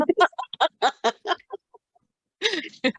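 Chicken clucking sound effect, a quick run of sharp clucks and squawks in short bursts, a brief pause, then a final squawk, loud and close.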